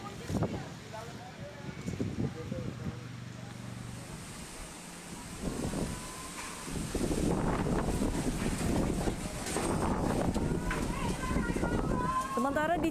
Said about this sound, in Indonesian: tiupan angin kencang juga berdampak ke sejumlah daerah